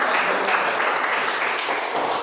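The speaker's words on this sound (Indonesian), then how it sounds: "tepuk tangan kita semua hari ini" A classroom of students applauds together, a dense, steady wash of clapping that holds at an even level from start to finish with no talking over it.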